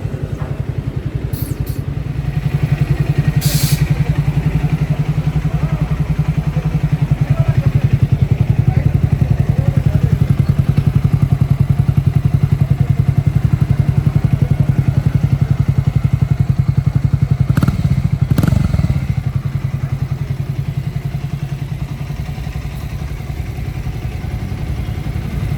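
A white Triumph Scrambler 400X motorcycle engine runs steadily through a test ride, a continuous low drone that swells a little through the middle and carries a few brief clatters, with no talking.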